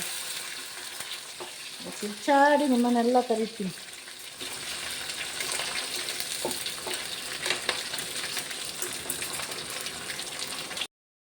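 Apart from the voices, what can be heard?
onion tempering sizzling in hot oil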